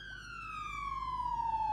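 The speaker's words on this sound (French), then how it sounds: "Bon sang, des ambulances qui circulent là." A video game ambulance siren wails with a single steady tone that slowly drops in pitch as it passes, growing a little louder, alone without talk.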